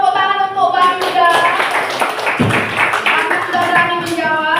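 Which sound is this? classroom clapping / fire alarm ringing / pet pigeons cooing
classroom clapping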